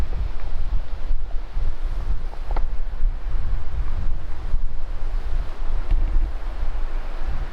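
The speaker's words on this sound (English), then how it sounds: "That wind is really picking up" Strong, steady wind roaring through a swamp at night, a dense, continuous low rumble with gusts and buffeting against the microphone, no talk over it.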